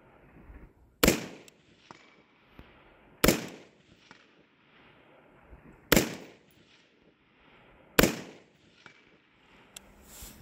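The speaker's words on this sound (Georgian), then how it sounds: "აბა ეხა ზუსტად ვესვრი 200-იანით" Four loud, sharp rifle shots from a Daniel Defense V rifle firing 55-grain rounds on an outdoor range, spaced about two to three seconds apart, each ending in a short echoing tail.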